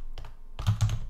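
A few quick, close keystrokes on a computer keyboard while code is typed: one soft tap, a short gap, then a cluster of louder thumping clicks.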